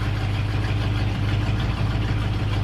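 A 1966 Ford F-250 truck's engine idles steadily with a deep, low rumble, running near and loud without a break or any talk.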